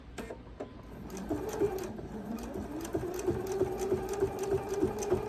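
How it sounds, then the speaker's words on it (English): A sewing machine stitches quilt binding at a quarter-inch seam, running in a steady rapid whir of needle strokes that builds after a couple of brief starts, close and clear with no talking. "And I'm going to sew 1/4 of an inch down through."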